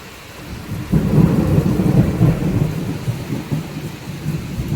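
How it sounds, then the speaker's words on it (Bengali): Thunder rolls loudly through a thunderstorm with steady rain, a deep rumble swelling after a quieter start and lingering for several seconds over the hiss of falling rain. "ভীষণ জোরে জোরে বাজ পড়ছে"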